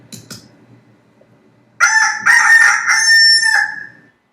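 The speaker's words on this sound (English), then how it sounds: "That's the rooster sound." A rooster crows one loud, close cock-a-doodle-doo lasting a couple of seconds after a quiet start with a few faint clucks, alone without talk.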